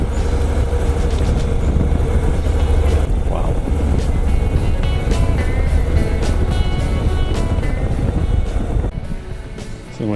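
Honda NC750X motorcycle cruising through tea plantations in Malaysia, a steady engine drone and rushing wind noise filling the whole stretch, loud and close, easing slightly near the end.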